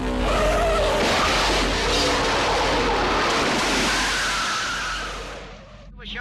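A Ferrari Formula 1 car skids out of control at a tight harbour chicane, giving a loud, sustained broadband roar of sliding tyres and engine noise that fades near the end.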